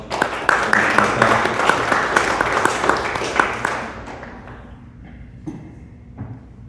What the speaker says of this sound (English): Could you give Molly and Jennifer a round of applause?